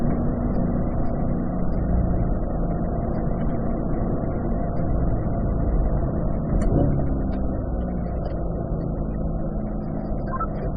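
A car on a track rolls into the throttle heading downhill, its engine a steady, loud, close droning roar that holds evenly throughout with only slight swells in revs, no talking over it.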